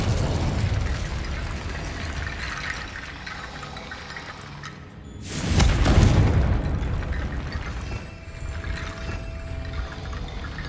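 A Confringo fire-blast spell explodes in the Hogwarts Legacy video game, one sudden booming burst midway through that rolls off into a rumbling tail over a busy, noisy game background.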